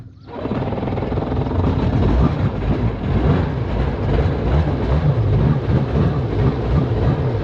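A Sea-Doo XP jet ski engine starts, then idles with a steady, low, throbbing rumble that stays fairly loud and even for several seconds, close by with no talk.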